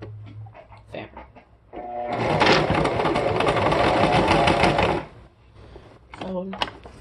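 A sewing machine stitches fabric in a steady whirring run of about three seconds, close and fairly loud. A voice talks before and after it, with light handling clicks.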